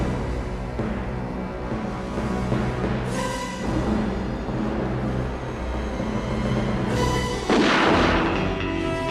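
Opening gun barrel gunshot from a James Bond film score, a booming shot followed by sustained orchestral music, with a second loud swell near the end.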